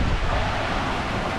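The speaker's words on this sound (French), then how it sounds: "il y a un vent assez soutenu qui a levé une mer avec des creux maintenant qui sont dehors de 3-4 mètres" Steady wind and rolling sea of three to four metre troughs around a solo sailboat on an Atlantic crossing from Martinique to Guatemala, a continuous broadband rush close to the microphone with no voices.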